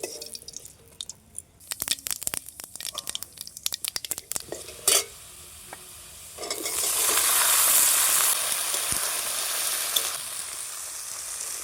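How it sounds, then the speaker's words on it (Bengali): Oil crackles and sizzles steadily in a pan of frying pointed gourd, with scattered sharp pops and spatters early on and then a loud, dense hiss of frying. "পটলগুলো ভাজা হয়ে গেছে, তুলে নিচ্ছি"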